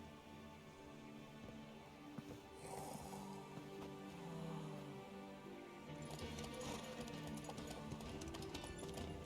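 Horse hooves clip-clop steadily in The Witcher 3, a moderately faint, continuous trot under a dense bed of game music and ambience, which brightens toward the end.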